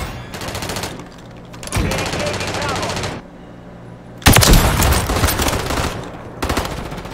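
Call of Duty MW3 submachine-gun fire in ranked play, loud rapid bursts in two long sustained volleys separated by a short pause, close and dominant with no talk.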